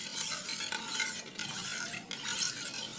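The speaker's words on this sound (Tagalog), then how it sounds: "Haluin ulit." A spoon stirs paksiw, a Filipino vinegar stew, in a pot, producing a steady wet swishing and scraping with brief pauses and no voices.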